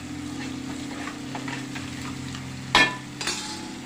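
Spices with rock salt and turmeric fry steadily in a pan for a fish stew, a continuous close sizzle with a sharp metallic clink of a spoon near the end and a softer scrape after.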